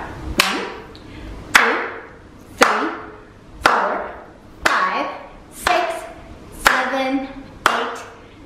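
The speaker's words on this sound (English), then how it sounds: "Why don't we clap our hands as we count to 13?" Hands clap in a steady, evenly spaced rhythm, seven sharp claps roughly one second apart, close and fairly loud, as kindergarten children keep count together during circle time in Japan.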